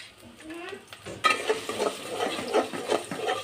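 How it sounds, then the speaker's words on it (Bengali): Chopped onion and green chili are dropped into hot oil in a pan over a low gas flame and burst into a steady, close sizzle with stirring scrapes, loud and continuous with no voices. "তেলটা গরম হয়েছে, পেঁয়াজ দিয়ে দিই, পেঁয়াজ কুচি,"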